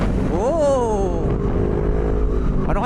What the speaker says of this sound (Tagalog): Ano kaya ang motor yun?